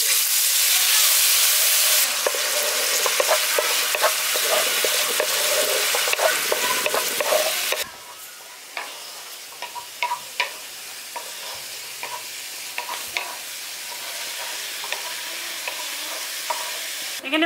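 Ground spices and fried potatoes sauté in a pan for pumpkin chhokka with a loud, even sizzle at first. The sizzle then drops to a quieter hiss marked by repeated close spatula scrapes and stirring knocks, with no speech.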